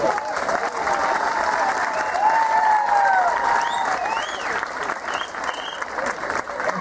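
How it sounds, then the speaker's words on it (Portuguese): Audience applause at a public event in Vila Franca do Campo, a dense, steady wash of clapping that carries on throughout, with voices and whistles over it. "quero pedir para estes dois jovens uma grande salva de palmas"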